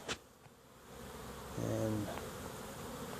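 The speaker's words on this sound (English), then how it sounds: "Bees are a little riled up" Agitated honey bees in an apiary buzz in a low, droning hum close by, the sound swelling briefly midway before settling back to a steady murmur.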